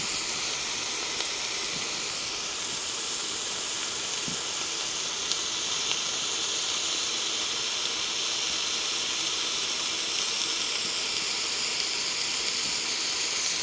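Chicken for soup sautés and steams in an Instant Pot, a continuous, even hiss of steam and gentle sizzling that holds steady throughout without pause.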